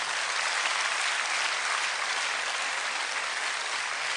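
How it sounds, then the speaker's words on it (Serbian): An audience at a business talk bursts into dense, steady applause, loud and continuous throughout with no pause and no one speaking over it. "Jedan veliki aplauz za vas."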